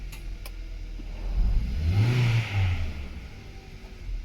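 A Hyundai ix35 engine running on petrol revs up once and falls back, a single rising and fading engine swell over a low idle, heard close with no talking.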